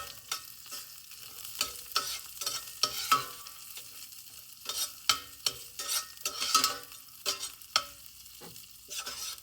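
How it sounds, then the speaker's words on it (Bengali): Peanuts, raisins and curry leaves fry in ghee, with a quiet sizzle beneath repeated sharp scraping strokes of a spoon stirring the pan at a steady, busy rhythm. "প্রথমে বাদাম, কিশমিশ আর কারি লিভগুলো আগে ভেজে নিব।"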